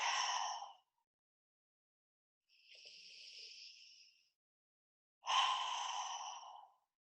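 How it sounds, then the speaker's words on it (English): Three slow, deep breaths in a guided eyes-closed relaxation, each a soft airy sigh lasting about a second, separated by pauses of silence; no talking over them. "Take a couple of deep breaths."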